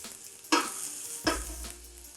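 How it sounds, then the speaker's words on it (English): Salmon fillet searing in a hot pan for a habanero honey glaze, a constant loud sizzle with two sharp bursts as the fish is moved or pressed, no voices. "Now, I am also going to sear the sides as our salmon is just about done firming up."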